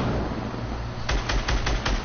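Rapid burst of gunfire in the video game Fortnite: about six evenly spaced sharp shots in the second half, following a quiet stretch of low game rumble, close and fairly loud.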